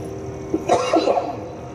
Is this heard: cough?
yes